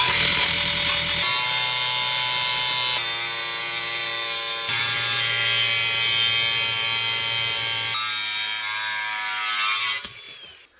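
A power tool cuts through metal during a shower installation in a camper van, a steady high buzzing whine that runs continuously for about ten seconds with slight changes in pitch, then cuts off at the end.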